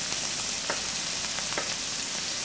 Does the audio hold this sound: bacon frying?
yes